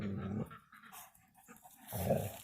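A farm dog growls in two low rumbling bursts at the start and end, with quieter breathy noise between, close and fairly soft.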